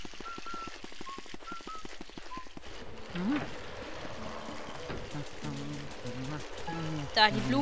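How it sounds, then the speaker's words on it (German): Water pours onto a flower from a watering can in the video game Luigi's Mansion, a trickling stream heard under game music and chime-like effects, with a voice talking over part of it. "kann ich ja auch die Blume gießen."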